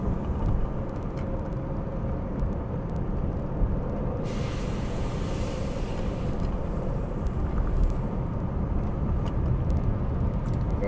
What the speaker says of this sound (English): You're going to hear the sounds of the industrial park.